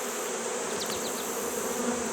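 Honey bees on a hive frame give off a close, steady buzz with a few quick rising whines from individual bees as the frame is gently brushed.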